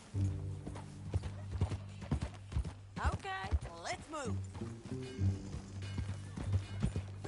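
Horse hooves clip-clopping at a steady walking rhythm in Red Dead Redemption 2, close and clear beneath spoken dialogue, with background music and a brief whinny-like cry.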